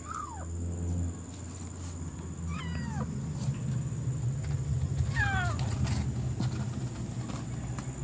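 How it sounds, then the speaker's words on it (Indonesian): A kitten meows several times, thin high cries spaced apart over a quiet room with a low steady hum and faint rustling. "Ini anak kucing."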